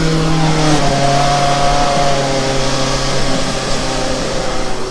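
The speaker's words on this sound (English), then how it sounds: "Now we have 2 combustion cars firing up in front of us. The famous V4 Rennteam engine." Two combustion race cars with Rennteam V4 engines running close by at a skidpad, a loud steady droning engine note with a buzzy, chainsaw-like edge holding near-constant pitch.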